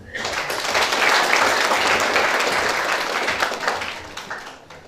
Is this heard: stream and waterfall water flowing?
no